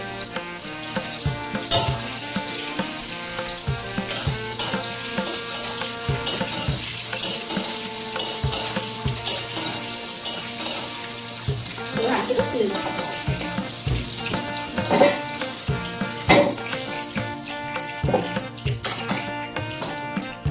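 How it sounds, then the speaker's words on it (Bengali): Potatoes sizzle in a frying pan as salt goes in, a continuous close hiss broken by repeated clinks and scrapes from a stirring utensil, with brief quiet talk now and then. "আলুটা ভাজার সময় একটু নুন দিই।"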